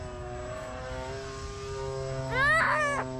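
A model of the XF1 Pogo prototype VTOL aircraft buzzes steadily in forward flight with a droning, tonal propeller whine, rising briefly into a louder, wavering sweep near the end; nobody speaks.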